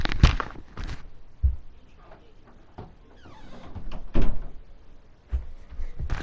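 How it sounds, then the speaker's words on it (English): A bedroom door pushed shut at home at night, with a few thuds and handling bumps, footsteps moving about and a firmer closing knock, all fairly quiet with no talking. "I'm gonna go shut my door"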